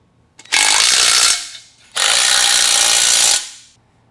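Two long, loud bursts from a power driver tightening bolts on a glute ham developer fitness bench during assembly, each whirring burst about a second or more, close by with short pauses between them.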